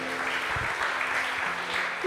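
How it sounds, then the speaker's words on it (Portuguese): A congregation at a Christmas church service applauds, a moderate wash of clapping with a low hum beneath it and faint voices mixed in, fairly even for two seconds. "Quantos podem aplaudir o Senhor?"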